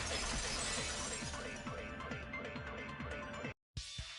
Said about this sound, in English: If it wasn't the window, then what broke to make that sound? A vase.